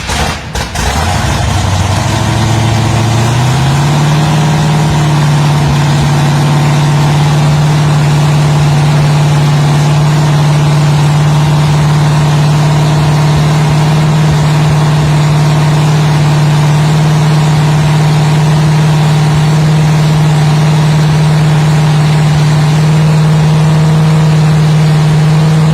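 A car engine fitted with a GMC 6-71 supercharger blower cranks, catches and settles into a loud, steady idle that holds unbroken for the rest of the clip.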